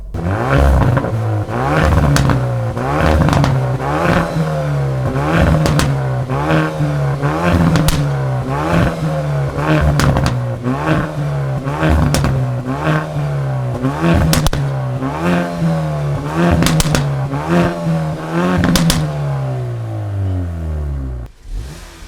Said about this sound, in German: wir hören uns jetzt erstmal die Fahrzeuge von hinten an, wie sie denn tatsächlich klingen